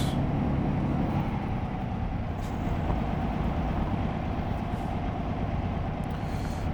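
Steady, loud engine rumble of a DAF XD truck driving in Euro Truck Simulator 2, a continuous low drone with no voices.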